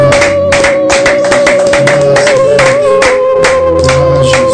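A congregation clapping in steady rhythm to acclaim the Lord at an international family intercession service, the loud claps joined by singing and a sustained tone throughout.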